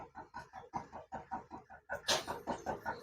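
Pigeons close by make quick, throaty pulsing calls in a steady rhythm, with one louder burst partway through.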